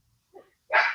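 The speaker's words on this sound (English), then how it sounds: "that's why he's barking" A dog barks once, loud and close, just after a brief softer yip, heard alone in a garden setting.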